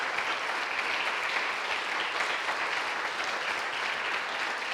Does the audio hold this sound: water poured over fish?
no